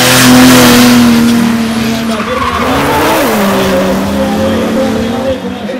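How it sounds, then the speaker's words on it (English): Mercedes W123 with a stock 3-liter 24-valve turbo diesel from a 1998 E-class: a loud engine howl that rises and falls through revs, its pitch sweeping around mid-clip, with a voice faintly present underneath. "Engine is stock from a 98 E model, 3 liters, 24 valves."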